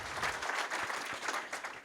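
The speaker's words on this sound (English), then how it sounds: "can y'all give Charlie a big round of applause for the great job he did with the introduction?" Audience applause at a closing keynote event, a crowd clapping steadily and fairly close, a dense patter of hands that swells briefly and holds without talk.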